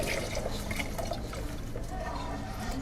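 Chicken broth pours into a cooking pot in a low, continuous liquid splash, quiet and steady, with faint kitchen background noise.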